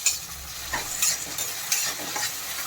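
Onions sautéing in a pan for poha sizzle steadily while a spoon stirs them, with a few scraping strokes standing out at irregular intervals, up close and without voices.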